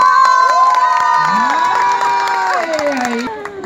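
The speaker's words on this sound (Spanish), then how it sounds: "¡Aplausos le pido a María Victoria Salazar!" Crowd at a town festival in a plaza in Sonsonate cheering and shouting, with high voices and whoops rising and falling across several seconds, loud and close.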